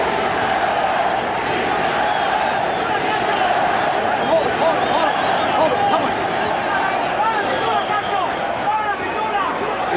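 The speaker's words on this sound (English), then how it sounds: "the crowd trying to summon up some energy from Julio Cesar" A boxing arena crowd roars and cheers in a dense, loud, continuous wash of voices during a Julio Cesar Chavez bout, with excited shouts rising throughout.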